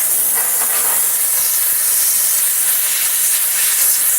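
Compressed air blasts from a shop air line in a steady, loud, close hiss that runs the whole time without a break.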